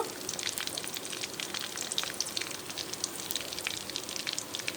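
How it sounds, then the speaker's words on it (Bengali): Cumin seeds sizzling in hot ghee in a pan, a dense steady crackle of tiny pops and hiss, close and continuous with no talk. "এর সঙ্গে আমি জিরে দিচ্ছি বেশ খানিকটা জিরে দিয়েছি ঘির ফ্লেভার অলরেডি উঠে গেছে"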